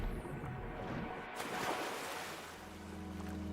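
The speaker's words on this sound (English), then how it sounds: "now we have the water waves" Water waves wash and surge in a low continuous rush, with a brief brighter splash partway through, fairly faint and with no voices.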